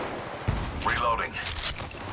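Rapid bursts of gunfire in the Apex Legends Mobile video game, sharp cracks mixed with mechanical clatter and a brief whooshing effect, close and loud.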